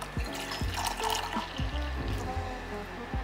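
Tea being poured for Hong Kong milk tea, a continuous close liquid stream with splashy gurgles and a few soft knocks, alone without talk.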